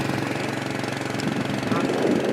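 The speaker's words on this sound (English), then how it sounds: "On a motorcycle." Motorcycle engine in Thailand or Laos, a close, loud, steady pulsing putter like an idling or slow-running motor, with voices talking faintly alongside it.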